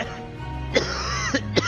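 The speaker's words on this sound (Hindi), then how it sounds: "पापा, आप खांसना बंद करोगे प्लीज?" A man coughs loudly at close range, three sharp bursts over a steady background hum at a school annual day stage performance.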